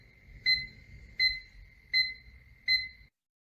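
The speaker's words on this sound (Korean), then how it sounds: "50cm 이하에서는 부저도 함께 울립니다." A wireless distance-sensor control box buzzer beeps four times in a steady rhythm, each short tone clear and high-pitched against a faint low hum, signalling an obstacle within 50 cm.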